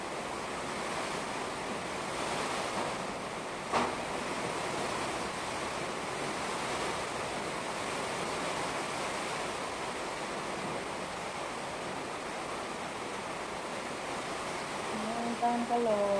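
Strong wind from Typhoon Tino roaring steadily at a home, a dense, continuous rushing noise with gusts buffeting the microphone, loud and unbroken throughout.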